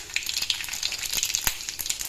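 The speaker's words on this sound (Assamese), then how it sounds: "ইতিমধ্যে কেৰাহীটোত মই তেল গৰম হ'বলৈ দি দিছো ইয়াত পাঁচফোৰণ কেইটামান ফুটাই দিছো" Panch phoron spices spluttering in hot oil in a wok, a close, bright crackle of rapid pops and sizzles with a few sharper snaps, steady throughout with no talking.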